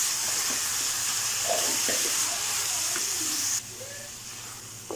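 Khoya roasting in a pan for carrot halwa makes a soft, steady hiss and sizzle, fairly quiet, with faint scraping and a drop in level near the end.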